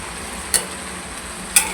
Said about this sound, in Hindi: फ्राई करते रहिए।